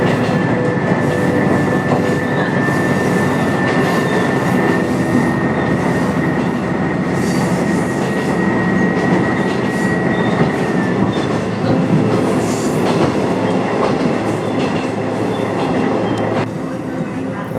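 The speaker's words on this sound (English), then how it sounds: "Right now the train is getting closer to Mizunuma Station." A Watarase Keikoku Railway train rolls steadily along the rails approaching Mizunuma Station, wheels rumbling and clacking continuously, with a thin high squeal running for several seconds.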